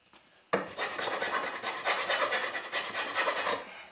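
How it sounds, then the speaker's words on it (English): Hand file rasping across steel parts of a target hanging stand, a steady series of back-and-forth scraping strokes that starts abruptly and continues close and fairly loud. "You could use sandpaper too if you don't have a file. But it's just easier to use files."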